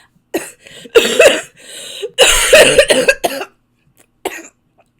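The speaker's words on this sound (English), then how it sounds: "I have a cough" Repeated harsh coughing fits, loud and close, in several bursts with short pauses between them.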